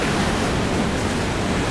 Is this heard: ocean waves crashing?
yes